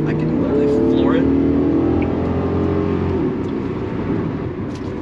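A 1991 Acura NSX accelerates at full throttle, its engine note a steady rising drone with climbing harmonics, loud and continuous beneath someone talking.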